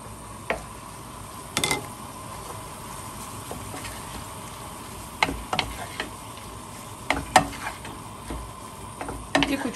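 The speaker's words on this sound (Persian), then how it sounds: "کوچولو تفتش میدم از حالت خامی در بیاد، رنگش تغییر کنه" Shrimp sautéed in a pan with garlic for a southern Iranian shrimp rice dish: a quiet continuous sizzle with occasional sharp clicks and scrapes of a utensil against the pan.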